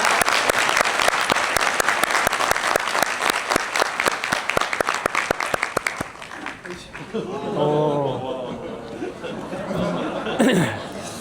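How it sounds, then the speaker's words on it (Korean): An audience at a Korean public forum on Ulsan's future industries applauds as a speaker takes the stage: loud, sharp clapping for about six seconds, then fading into crowd chatter, a few laughs and a voice speaking. "큰 박수로 맞아주시죠."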